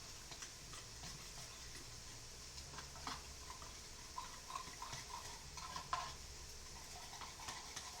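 Mongolian-style beef stir fry is stirred in a pan, soft scraping and light clicking of a utensil over a low, faint sizzle that goes on for several seconds without talk.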